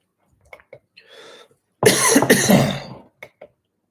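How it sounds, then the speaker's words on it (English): A soft throat-clearing rasp followed by a loud, harsh cough up close, with a few small clicks and breaths around it. "Coughing in your ear."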